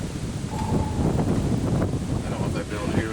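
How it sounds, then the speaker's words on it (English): Strong wind blowing across an outdoor porch, a steady loud roar with buffeting against the microphone and some rustling throughout. "I don't know if they build here with all this wind or not."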